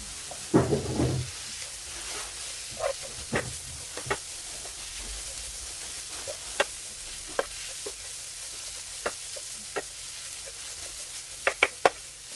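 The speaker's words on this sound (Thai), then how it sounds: "เราก็ผัดน้ำพริกมาจนได้แล้วค่ะ" Thai chili paste with shredded pork is stir-fried over medium heat, a low steady sizzle with intermittent scraping strokes and sharp clicks of a utensil against the pan, plus a brief knock early on.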